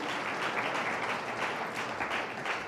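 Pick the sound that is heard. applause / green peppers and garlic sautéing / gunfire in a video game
applause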